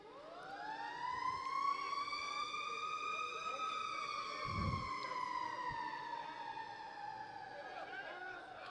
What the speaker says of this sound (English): As you might have heard the fire engine going up East McMurray past the high school field